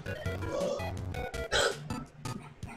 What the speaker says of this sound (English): I hear hiccups